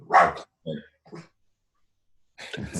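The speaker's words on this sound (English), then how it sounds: "My dog Scruffy's like, hi, Scruffy." A pet dog gives a few short barks close by, a loud yelp followed by two quieter woofs and a brief pause before another bark.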